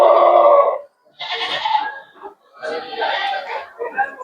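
A white Beetal goat bleating close by at the Maur Mandi livestock market, three or four wavering calls in quick succession with short pauses between.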